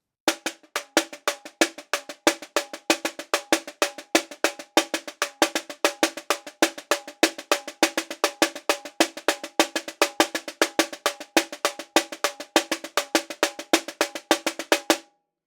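A caixa snare drum plays a Caixa em Cima pattern with a variation, crisp rapid strokes and accented hits repeating in a steady driving groove, close and dry, for about fifteen seconds with no voices.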